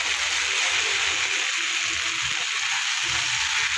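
Kohlrabi curry sizzling in a pan as it is stirred, a steady bright frying hiss with soft low scraping knocks from the spoon at irregular intervals.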